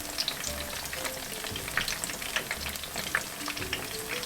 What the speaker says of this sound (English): So you want these frying on each side for about 5